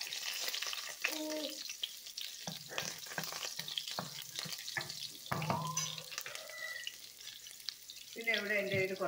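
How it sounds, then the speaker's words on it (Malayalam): Ginger and green chilies fry in a pan for upma, giving a soft sizzle under repeated stirring and scraping, with a few clinks and brief utensil taps close by. "ഇനി നമുക്ക് ഇച്ചിരി ഇഞ്ചിയും പച്ചമുളകും കൊടുക്കാം."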